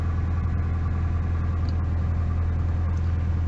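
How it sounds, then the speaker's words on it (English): A 4th generation Honda Prelude engine idles just after a cold start, a steady low rumble with a constant hum, close and even throughout with no speech. "Just started the car up, so it'll need some time to warm up."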